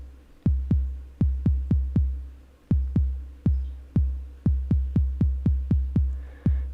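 Deep electronic kick drum hits from an Elektron Model:Cycles pound in a steady but irregular probability-triggered pattern, each thump decaying quickly, alone with a faint hum underneath.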